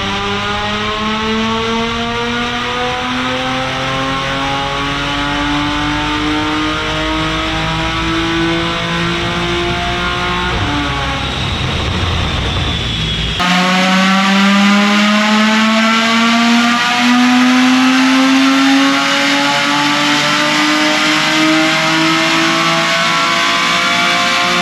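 A tuned 2014 Audi S4 with a supercharged 3.0L V6, 034 Stage 1 tune, transmission tune, intake, test pipes, downpipes and full catback exhaust, pulls hard on a dyno, rising in pitch, shifting once, then climbing again, loud and close.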